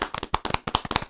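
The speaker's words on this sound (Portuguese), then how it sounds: "Uma salva de palmas." Closing a podcast interview, a few people clap close up in brief, uneven applause. Sharp hand claps land irregularly for about a second, with no voices over them.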